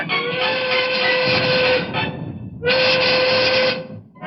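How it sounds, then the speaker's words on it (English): A train whistle sounds in two long, steady blasts with a brief gap between them, loud and close, over a low rumbling background. "Do you hear that train pulling away?"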